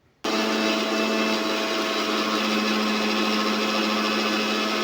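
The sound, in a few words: mixer grinder blending ghee with water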